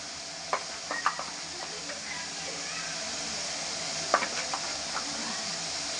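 Ground spices, including homemade crushed red chili and coriander powder, fry in a pan with a steady soft sizzle, broken by occasional clinks and scrapes of a spoon.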